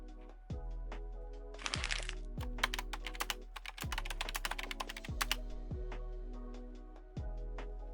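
Fast typing of a login email and password on a computer keyboard, quiet bursts of crisp key clicks with short pauses and a few heavier thunks, close and without talk.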